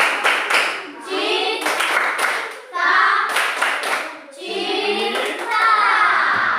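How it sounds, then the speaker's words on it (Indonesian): A school class doing the rhythmic 'tepuk cinta' clap: bursts of patterned hand-clapping from many children close by, mixed with their chanting voices, repeated in several rounds. "ini tepuk cinta untuk kelompok 3"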